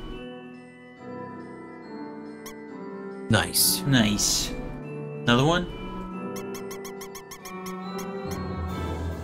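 Squeaky toy-like noises in a video game, brief high squeals and a rapid series of squeaks mixed with game tones, while people talk over them.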